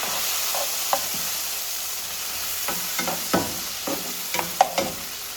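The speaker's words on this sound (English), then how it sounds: "and onions, tomatoes, and garlic. Saute." Onions, tomatoes and garlic sautéing in a pan with scallions and pepper for ackee and saltfish, a steady soft sizzle broken by repeated sharp scrapes and knocks of a utensil stirring.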